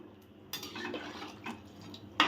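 A metal lid goes onto a pot of simmering chicken curry with water added, making a few light clinks and scrapes. A final brighter clank sounds as it settles.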